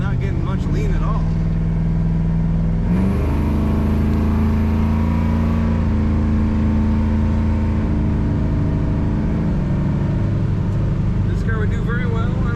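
A 1970 Chevrolet Nova two-door sedan engine runs loud and steady from inside the car, its drone rising as it accelerates, with a brief high whine partway through.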